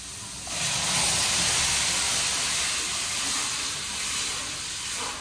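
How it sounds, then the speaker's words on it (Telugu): Tomato puree and a green chilli, mint and coriander paste sizzle in a hot pan, a loud steady hiss that rises sharply after a quiet half-second and holds for the rest of the clip. "ఆ పేస్ట్ని కూడా ఇప్పుడు పచ్చిదనం పోయే వరకు కొంచెం అలా వేయించుకోవాలి"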